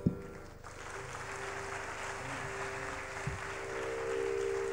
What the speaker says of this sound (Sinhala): ආරම්භයට ඔහොම අත්පුඩියක් ඇතිද කියලා මට හිතුණා.